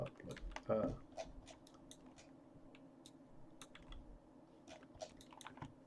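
Keys on a computer keyboard are pressed while rigging a claw machine, making a scattering of sharp, close clicks over a low, quiet background.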